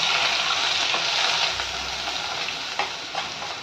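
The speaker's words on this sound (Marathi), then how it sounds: "एक पाच चमचे घरचा लाल मसाला चांगला तेलात परतून घ्यायचं" Homemade red masala spice crackles and sizzles in oil while being stirred, a loud, close, continuous frying hiss with occasional scraping taps, and no voices.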